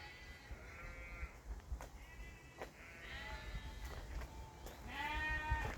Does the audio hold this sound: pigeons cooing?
no